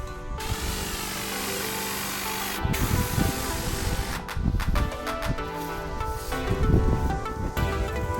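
A hand sprayer hisses in bursts as it wets weeds growing in a lawn, with short gaps between pulses and some rustling of foliage; no speech.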